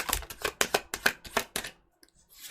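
Tarot cards are shuffled by hand in a quick run of crisp riffling bursts, about eight in a row, close and clear, then a short pause before another starts.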